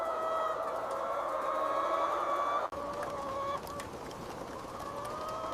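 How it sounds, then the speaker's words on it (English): Thousands of laying hens cluck and murmur together inside a large egg-farm barn, a dense, continuous flock chatter at moderate distance with no voices. "In another building, the layers, thousands of hens,"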